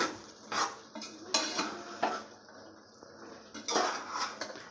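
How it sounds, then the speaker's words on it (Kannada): A spoon scrapes and clanks against a pan while chicken liver curry with mint is mixed, the stirring knocks coming in irregular bursts over a low background hiss, with no talk. "ಚೆನ್ನಾಗಿ ಮಿಕ್ಸ್ ಮಾಡ್ಕೊಳ್ಳೋಣ ಇವಾಗ"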